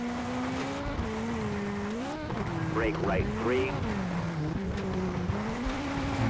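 Rally car engine in the V-Rally 4 racing game on Nintendo Switch, a steady droning hum that rises and falls with gear changes and revs, running continuously under a co-driver calling pace notes.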